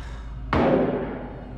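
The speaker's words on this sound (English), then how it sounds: "Those are gunshots." A single heavy gunshot in the video game Man of Medan: one sudden muffled blast with a long, slowly fading tail, heard alone with no talking.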